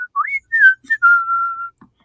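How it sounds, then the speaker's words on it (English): A person whistles a short tune: a few rising and falling notes, then one long steady high tone, clear and close with no talking. "Play my whistle, man."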